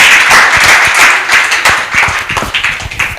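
Close, loud clapping from a conference audience at an opening ceremony. Dense overlapping claps hold steady, then thin into more distinct individual claps toward the end.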